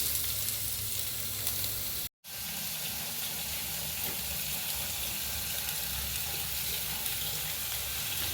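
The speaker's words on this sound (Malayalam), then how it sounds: "ഇനി നമുക്ക് ഇതിലേക്ക് വെളുത്തുള്ളി, സവാള അരിഞ്ഞത് ഇടാം." Chopped garlic and onion fry in coconut oil, an even, moderately quiet sizzle broken once by a brief dropout.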